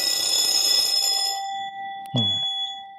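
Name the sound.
three alarm bells of different brands ringing together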